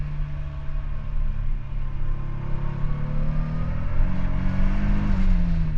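Nissan 300ZX Z32 with a turbo VG30 engine, heard from inside while driving: a loud, steady drone whose pitch climbs gradually with a rising whine, with no one talking.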